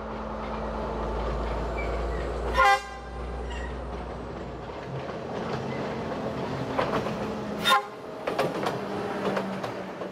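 Broad-gauge train running through Sri Lankan highlands, with a steady rolling rumble and rail clatter, two short sharp horn toots several seconds apart, and the low engine drone dropping away midway.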